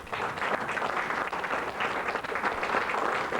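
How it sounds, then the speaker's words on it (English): A crowd of brothers and sisters at a pre-demonstration rally in Norfolk, Virginia, claps in a continuous, moderately quiet burst of applause heard from some distance. "give yourself a round of applause."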